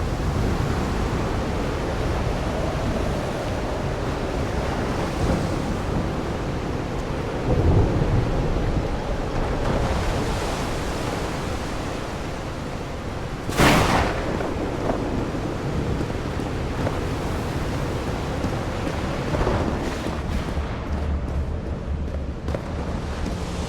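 Thunderstorm in the video game Call of the Sea: steady rain and wind hiss throughout, with low rumbles and one sharp, loud thunder crack about halfway through.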